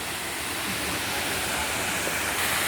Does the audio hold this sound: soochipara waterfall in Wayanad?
yes